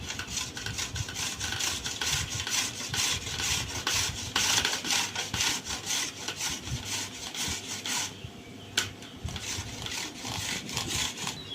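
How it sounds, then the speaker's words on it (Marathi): Black jaggery being grated in a kitchen, a continuous close rasping scrape with rapid repeated strokes throughout, briefly pausing near the end before resuming. "आता गुळ घेऊ किसून आपण आपल्याला जेवढा लागेल तेवढा घ्यायचा"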